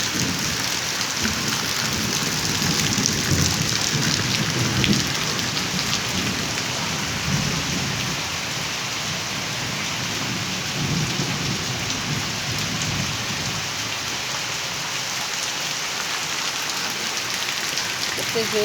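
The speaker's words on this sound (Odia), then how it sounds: "ବିଜୁଳି ଘଡ଼ଘଡ଼ି ବି ଜୋରରେ ମାରୁଛି" Heavy rain pours steadily onto surfaces in a thunderstorm, with low thunder rumbling at times beneath the dense, constant hiss.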